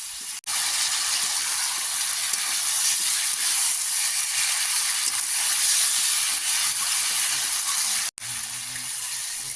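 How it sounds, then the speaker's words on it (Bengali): Curry of sweet pumpkin stems sautéing in a pan with chili, turmeric and chili powder, giving a steady, loud broadband sizzle and hiss that runs almost unbroken, with two brief cuts. "সব কিছু দিয়ে আমি আবারও কিছুক্ষণ এটা কষিয়ে নেব।"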